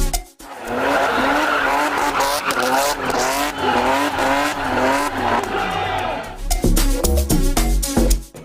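A car drifting at a bikers and car drifter event in Ghana, with sustained wavering tire squeal and engine roar over crowd noise, followed by choppy bursts of loud revving near the end.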